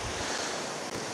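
Ocean waves wash onto the shore at Songjeong beach in a continuous, loud, broad roar with wind noise on the microphone and no voices.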